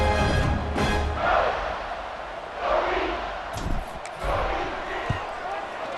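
Home crowd at a football game roars in swelling waves with shouts and bursts of noise, loud and broad, under a steady din of voices.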